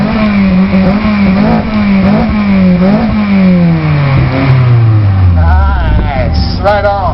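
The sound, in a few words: Toyota Matrix exhaust revving with custom mid pipe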